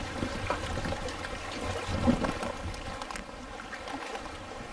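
A canoe glides down the Buffalo River on a summer afternoon, with soft continuous water trickle and gentle paddle splashes close by.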